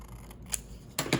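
Scissors snip ribbon for a junk journal, a few quick close crisp cuts with a sharp click, the last two snips coming just after one second.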